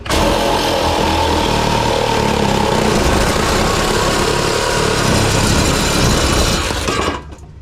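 Power tool cutting off a metal exhaust pipe on a 1968 Pontiac LeMans, a loud continuous high-revving whine and grind close up for about seven seconds before stopping abruptly.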